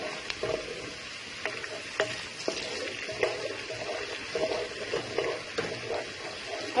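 Ginger garlic paste and onions frying in a pan, a steady broadband sizzle with scattered soft scraping and clicking stirs throughout, fairly close and even, with no voices.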